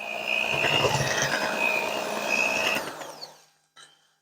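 An electric mixer whirs steadily through pumpkin puree, a close, buzzing motor drone that cuts off after about three seconds, followed by a brief clunk.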